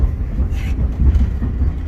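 A heavy train crossing a causeway gives a steady, loud low rumble with rolling rail noise and faint clatter throughout, heard from on board.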